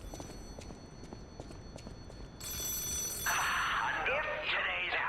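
Telephone ringing inside the Lies of P video game, an electronic ring that starts partway through and continues steadily over a horse-like clip-clop and game background sounds.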